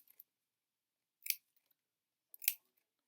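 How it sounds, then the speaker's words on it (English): Sharp scissors snip through paper in two crisp, quiet cuts about a second apart, alone with no talking. "If you don't have really sharp scissors, then I would use the open mouth method"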